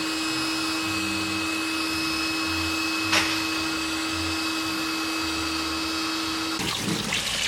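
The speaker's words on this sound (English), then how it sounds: "I'll try to pump up this thing in the meantime." An electric air pump inflates a backyard pool in Florida, a steady, loud whining drone with a constant tone that runs throughout, a brief click near the middle and a rustling shift near the end.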